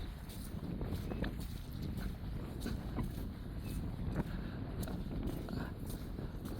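Wind gusts along a shoreline at low tide, a steady buffeting rumble battering the microphone for the whole stretch, with faint scuffs like footsteps now and then.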